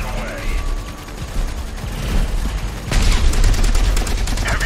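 Heavy bolter fire rattles in rapid bursts during a Warhammer 40,000: Dawn of War 3 battle, dense and crackling, intensifying toward the end amid game effects.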